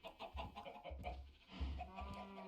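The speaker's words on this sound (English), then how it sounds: "you gotta get a feathered chicken, which is this chicken" Chicken clucking in the StoneBlock 4 modpack game, a series of short low clucks near and fairly loud, with other game sounds and a faint bird-like tone layered over them.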